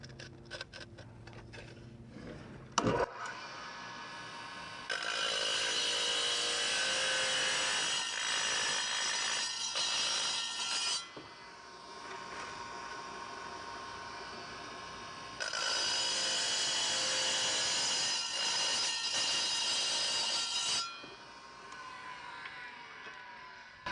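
A tile saw with a large 10-inch blade plunge-cuts into tile for a register vent opening, a harsh high whine rising twice for several seconds each, with quieter motor hum between and a clatter before the first cut.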